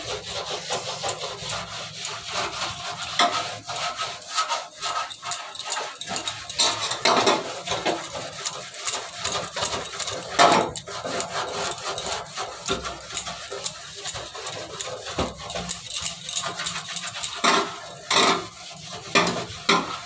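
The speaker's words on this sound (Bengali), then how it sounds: "সার্ফ দিয়ে ভালো করে মেজে ঘষে তারপরে জল পাল্টি ভালো করে পরিষ্কার একটা ন্যাকড়া দিয়ে মুছে নেবো" Floor tiles scrubbed with detergent and a cloth, a continuous rough rubbing and scraping with irregular strokes and occasional sharper knocks, close by.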